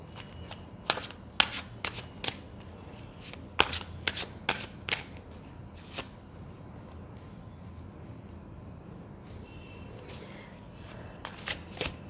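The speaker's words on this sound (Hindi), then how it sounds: "थोड़े से कार्ड्स में सेट कर लेती हूँ।" Tarot cards riffle and snap in several quick shuffling bursts, close and crisp, with quieter gaps of soft handling between them and no speech.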